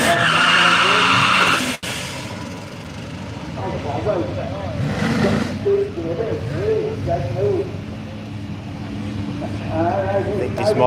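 A Ford-powered Volvo drag car with an Intech 6 engine at a street machine drag event, engine roar and tire noise rising and falling at a distance beneath a commentator's voice.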